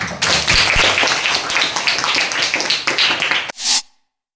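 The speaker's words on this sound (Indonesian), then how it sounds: "Tepuk tangan untuk semua." Classroom applause from teacher and students, loud dense clapping that runs several seconds and then cuts off abruptly, followed by a short burst and silence.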